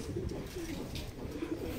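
Soft, low cooing of pigeons repeats a few times close by, under a faint, steady background noise.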